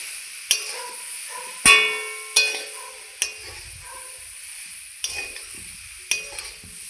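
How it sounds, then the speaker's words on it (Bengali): Fried soybeans, papaya and potato tossed together in a pan with a spoon, giving a handful of sharp, spaced scrapes and knocks over a faint background sizzle, close by and with no talking. "আবারও সবগুলো ভালো করে মিলিয়ে নেব।"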